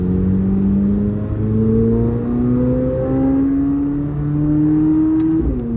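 Inside a Chevrolet C8 Corvette Z06 with Z07 springs, a steady engine drone rises slowly through the gears as the car cruises, loud and close, with a brief shift near the end.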